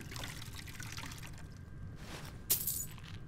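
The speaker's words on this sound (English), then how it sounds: "Refill of water would be great." Water poured into a glass as a refill, a soft trickle that gives way to a brief splashing pour near the end, heard against a quiet room hum with no speech.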